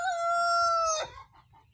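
Rooster crowing loudly and close, one long harmonic call lasting about a second, followed by a few soft clucks from chickens in a backyard flock.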